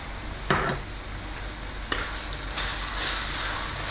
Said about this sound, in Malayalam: നന്നായിട്ടൊന്ന് ഇളക്കി കൊടുക്കുക. മുളക് മസാലയുടെയൊക്കെ പച്ചമണം മാറാൻ വേണ്ടി നന്നായിട്ടൊന്ന് ഇളക്കി കൊടുക്കുക.